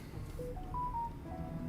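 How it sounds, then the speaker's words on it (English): New phone's notification chime, a few short bright electronic beeps stepping up and down in pitch over a steady low game soundtrack. "New phone noises. I did get a new phone"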